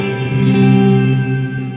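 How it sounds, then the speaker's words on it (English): Electric guitar played through an Empress reverb pedal on a medium hall setting, sustained chords swelling into a wet, long-decaying wash that stays loud and steady, with no talking. "So let's start with the Empress, and I'm using a medium hall delay."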